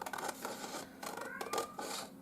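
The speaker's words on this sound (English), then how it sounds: "the cat's meowing. She wants to go outside." A cat meowing to be let outside, several drawn-out plaintive calls close by in a quiet room, with faint paper crafting noises beneath.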